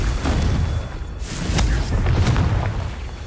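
Confringo fire spell explosions in the video game Hogwarts Legacy: loud, booming blasts with whooshing bursts that overlap in quick succession over a continuous rumble.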